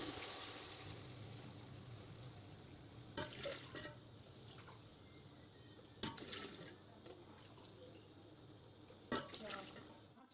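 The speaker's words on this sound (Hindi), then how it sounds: "3 गिलास चावलों के लिए हैं और 5 गिलास में पानी के डालूंगी।" Water is poured into a pot of rice for chana pulao in three separate splashing bursts from a glass, each a few seconds apart, quiet with a low background hum.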